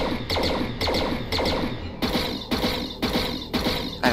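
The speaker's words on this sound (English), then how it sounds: "I just think the sound of the pulse lasers is pretty lame." Rapid bursts of pulse laser fire in MechWarrior Online repeat in quick, evenly spaced volleys, each a crisp zapping crackle, loud and close.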